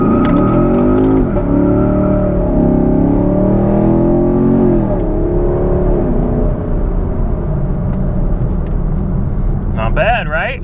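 From inside the cabin, a 2016 Chevy Camaro SS with an MBRP exhaust rumbles loudly as the throttle is blipped and held, a deep droning engine note rising and falling steadily throughout, with a short clatter near the end.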